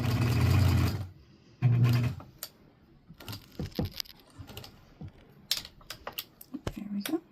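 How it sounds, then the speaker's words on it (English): A sewing machine runs in two loud sustained bursts, backstitching and then stitching forward around the edge of a teabag bookmark, with soft handling clicks and rustles between runs. "I'm going to go backwards a couple stitches and then forwards to go all the way around the edge"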